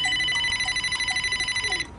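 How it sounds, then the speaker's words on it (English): A telephone rings with a steady electronic ringtone, loud and repeating in quick pulses for nearly two seconds before cutting off, with no talking over it. "My phone is ringing."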